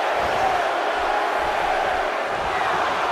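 A large video game wrestling crowd roars steadily in a dense, continuous wash of cheering, fairly loud with no clear individual voices.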